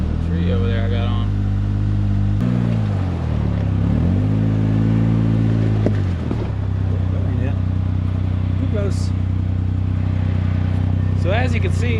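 A Polaris Ranger 1500 XD side-by-side labors along a muddy trail, its engine droning loudly and close with several revving swells and dips, clattering bumps underneath and a few faint scraping noises late on.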